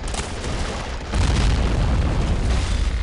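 A 203mm B4M heavy mortar fires in the Men of War: Assault Squad battlefield game. A loud, deep boom swells just after the first second into a sustained low rumble that holds to the end.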